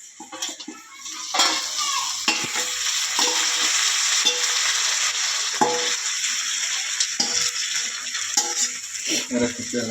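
Meat goes into a pan of fried rice for biryani and sizzles steadily under repeated scrapes and clinks of a stirring spoon against the pot, with a brief murmur of voices.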